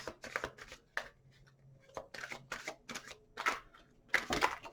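Tarot cards are shuffled up close in a series of quick riffling bursts, separated by short pauses.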